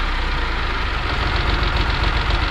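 A six-wheel diesel sugarcane truck engine idles loudly and steadily with a harsh, rapid knocking clatter from a faulty injector running through the rumble, close by and unbroken.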